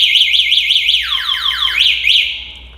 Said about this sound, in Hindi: जैसे कोई बंदा इसको हाथ लगाएगा तो इसके अंदर अलार्म जो है वो ऑटोमेटिकली एक्टिवेट हो जाएगा।